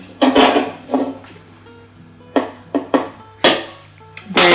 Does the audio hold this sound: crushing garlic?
yes